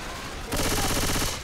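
Grenade launcher firing in Left 4 Dead 2, a sudden loud burst of rapid, rattling blasts that holds for about a second over low game ambience, then fades.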